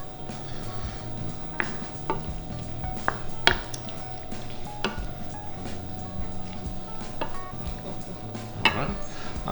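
Baked clam stuffing of chopped small chowder clams stirred and mixed in a bowl, with soft scraping and several sharp clinks of a utensil against the dish, close and steady with a low background hum.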